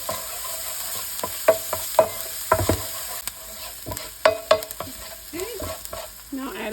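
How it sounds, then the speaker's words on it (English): A utensil stirs food frying in a pan until it turns translucent, ahead of garlic and seasoning for creamy shells and beef: steady close sizzle under a run of irregular scraping knocks against the pan. "I'm just going to stir this until it's translucent."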